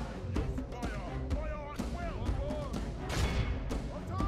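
Medieval bombard cannon firing in the Total War: Medieval 2 strategy game, several sharp booming blasts amid a busy battlefield din, with a voice talking over it.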